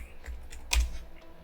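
Keys on a computer keyboard are tapped in a short burst of light clicks, one sharper press standing out in the middle, close and fairly quiet with no talking.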